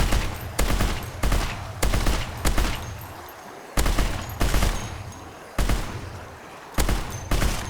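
A gun in a zombie survival video game fires in sharp, loud bursts, about ten shots spaced unevenly across several seconds, each with a short ringing tail and no talking.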